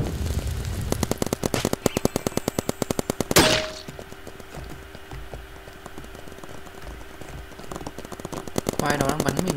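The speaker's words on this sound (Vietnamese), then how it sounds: "Quái đó đang bắn mình ấy." Rapid paintball gunfire in a Roblox paintball match: fast bursts of sharp clicking shots, then a loud clang and more scattered shots, with a voice talking over them.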